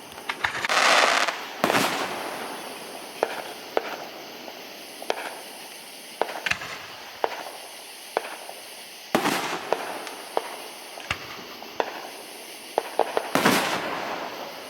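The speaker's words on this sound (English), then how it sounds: "Can smell the sulfur in the air from all these fireworks going off." Fireworks bursting outdoors at a July 4 show in Altus, with sharp firecracker-like bangs and crackles popping at irregular intervals, several loud booms standing out over a steady background hiss.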